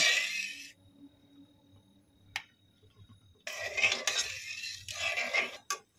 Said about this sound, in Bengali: আবারও নাড়াচাড়া করে আমি দুধটাকে ফুটিয়ে নেব